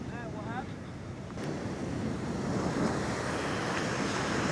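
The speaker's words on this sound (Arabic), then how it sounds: "شوف شلون الموج عالي" Large waves breaking on a California seashore, a steady roaring wash of surf mixed with wind rumble that swells slightly louder toward the end, with a faint brief voice early on.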